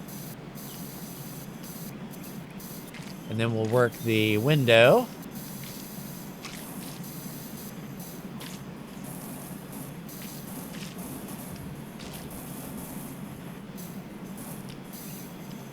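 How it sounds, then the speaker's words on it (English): Pressure washer spraying a window frame in PowerWash Simulator 2 gives a steady, even hiss that runs the whole time, with a brief spoken remark near the start. "Yeah, spray that frame."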